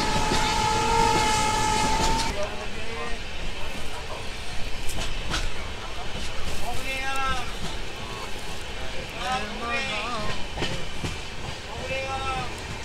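The Tamralipta Express on the Howrah to Digha line opens with a loud, sustained horn blast, then settles into a continuous close rumble of coaches with rhythmic clattering and brief tonal squeals from the wheels and rails.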